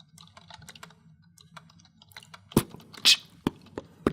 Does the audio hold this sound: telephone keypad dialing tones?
no